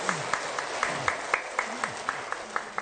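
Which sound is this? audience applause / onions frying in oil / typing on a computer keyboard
audience applause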